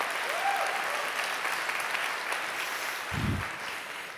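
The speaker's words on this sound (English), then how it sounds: "I think my wife deserves a round of applause" Sustained audience applause at a tech talk, a dense, steady wash of clapping from a sizeable crowd that holds evenly throughout, with a brief low thump near the end.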